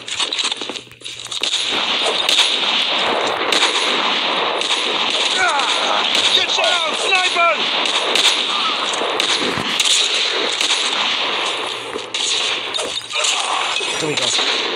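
Gunfire from a Call of Duty video game: rapid crackling shots and bursts run almost continuously at moderate volume, with a player talking over parts of the action.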